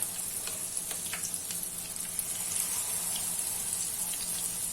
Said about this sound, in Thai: จะทอดเป็นคำๆเนาะ